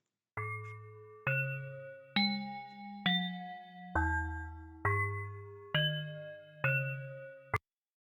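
Vibraphone-style handbell sample plays a sequence of eight evenly spaced bright, ringing notes at varying pitches, each struck cleanly and sustaining briefly before the next, ending abruptly, with no voices.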